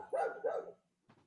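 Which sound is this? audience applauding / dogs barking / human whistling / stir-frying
dogs barking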